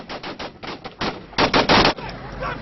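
Small-arms gunfire in combat as a US platoon returns fire against Taliban sniper positions. Loud, close rapid bursts of shots crackle in quick succession and build to a dense volley near the end.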